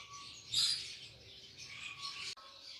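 Lovebirds of about seven to eight months kept at a bird farm chirp and tweet close by, with a burst of high calls early and more scattered chirps after it.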